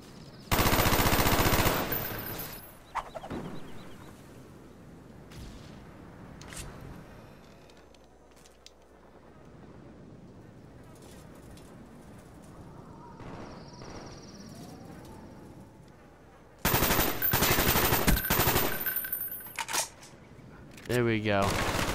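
Loud bursts of automatic gunfire in Call of Duty Black Ops 1 hardcore free-for-all multiplayer, a rapid fusillade at the start and again near the end, with quieter game ambience and scattered shots between.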